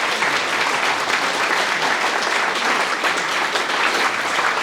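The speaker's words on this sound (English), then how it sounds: "let's give Len another round of applause" Steady audience applause at a history lecture, loud and sustained throughout as many hands clap together in a hall, with no voices standing out.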